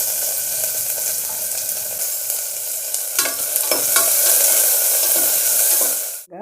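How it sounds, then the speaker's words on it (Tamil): Chopped onions hitting hot oil with fennel and cloves in a pan for veg salna, a loud continuous sizzle with a few stirring scrapes midway before it cuts off abruptly near the end. "இது பொரிஞ்சோடனே நம்ம வெங்காயம் போட்டுக்கலாங்க. நம்ம அரிஞ்சு வச்ச 2 வெங்காயம் போட்டுக்கலாம்."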